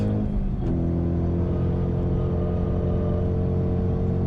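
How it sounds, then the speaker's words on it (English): A 2024 Ford Mustang Dark Horse engine on track holds a steady, loud, dense rumble, with a brief rev blip near the start during a downshift, then a sustained drone. "You've got to maybe give it a bit of a bigger blip than you think"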